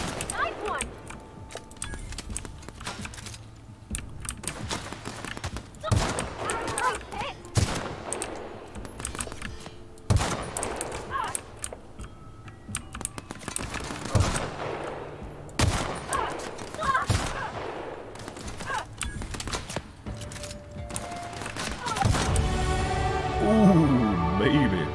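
Repeated gunfire in The Outer Worlds video game, bursts of shots scattered through a busy game soundscape, with a player's voice talking over the action.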